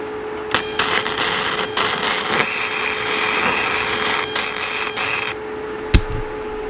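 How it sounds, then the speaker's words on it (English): A welding machine runs a bead on steel, throwing sparks: a steady, close crackling hiss over a low constant hum, holding for about five seconds before cutting off. "set the machine up to weld any type of steel. Let's get you onto this, mate, and get you making some sparks"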